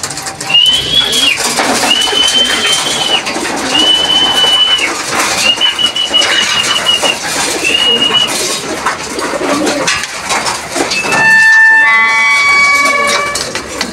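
Birds pass by during a cycling lap in San Francisco with steady cooing, pigeon-like calls, loud and close, and a horn-like tone and faint voices in the background.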